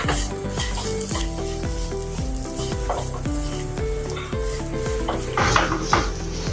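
Salt, chili, turmeric and ginger-garlic paste sizzle in a hot pan while a spoon scrapes and stirs them in a steady rhythm of metal clinks, close and clear.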